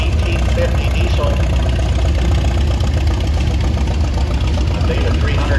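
A 1964 Oliver 1850 diesel tractor engine running at an outdoor antique tractor show, a steady, loud, low rumbling drone with a continuous knocking pulse throughout.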